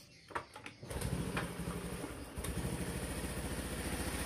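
Reassembled Honda automatic scooter engine started with the ignition on, a couple of starter clicks then catching and settling into a steady close, loud idle with a brief dip midway.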